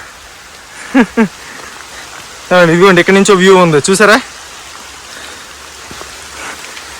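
Steady rain falls on an island path at Chilika Lake, India's largest brackish-water lake, a soft continuous hiss running beneath several people talking nearby.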